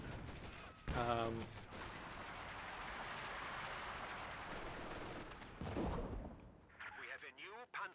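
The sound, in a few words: artillery fire in a strategy video game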